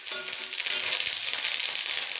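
Raw curry leaves dropped into hot oil in an iron pan give a steady, close hiss of sizzling and spitting that carries on evenly throughout, with no voices.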